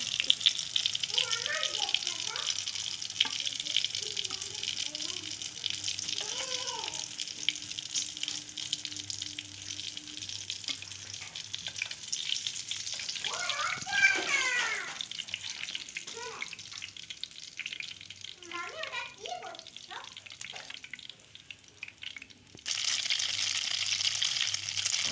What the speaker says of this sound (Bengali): এবার আমি হালকা করে ভেজে নেব